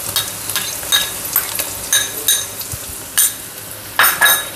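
Green chillies, garlic and cumin frying in a pan, with soft sizzling under repeated stirring, the spatula scraping and clinking against the pan in irregular bursts, close by.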